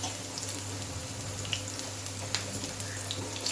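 Green chillies, slit down the middle, frying with garlic in hot oil: a steady, moderately quiet sizzle and crackle with scattered small pops, continuous throughout and with no voices.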